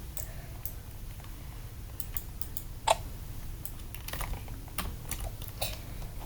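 Computer keyboard keys clack in a steady, close run of quick taps with one louder strike partway through, played alone without talk.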